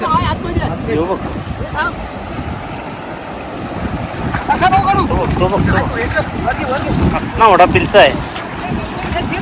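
Rough monsoon sea surf breaks and washes along a shore during traditional rapan net fishing, a steady roar gusting with wind noise, with voices talking over it.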